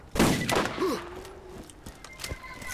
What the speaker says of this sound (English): Who's shooting shit at me?